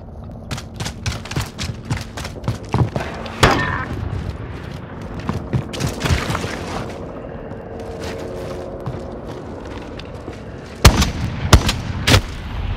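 Rapid sniper rifle fire during a Call of Duty Modern Warfare snipers-only match, with a run of close sharp shots early on, a heavier blast, then a lull of game ambience before a final burst of loud cracks.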